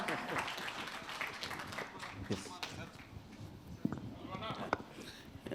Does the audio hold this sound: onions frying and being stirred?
no